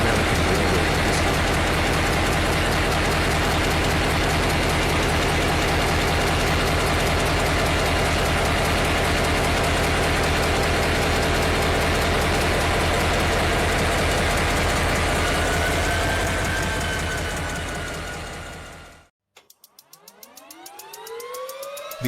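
A heavy diesel locomotive engine drones loudly and steadily with a deep rumbling throb, then cuts out abruptly near the end, leaving a brief hiss and faint sweeping tones.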